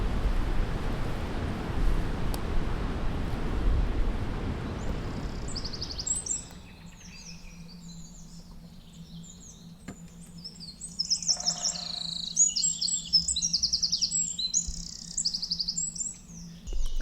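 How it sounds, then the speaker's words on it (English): Morning birdsong outdoors with a dove and a woodpecker: after a stretch of wind rumble, bright chirps and trills come in clusters over a faint low hum, moderately near. "All you can hear is lots of bird song."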